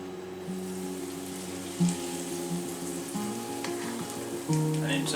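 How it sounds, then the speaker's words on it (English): Breaded, battered fish goes into hot oil for fish and chips, a soft, fairly faint bubbling sizzle with a few brief pops and steady tonal hum beneath it. "And into the fryer."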